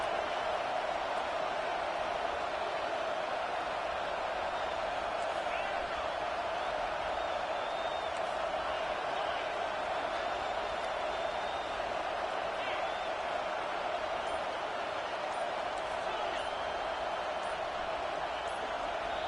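Stadium crowd at a college football game, Virginia Tech at top-ranked Syracuse, roaring steadily and loudly throughout as a dense, continuous wall of noise with talk mixed in.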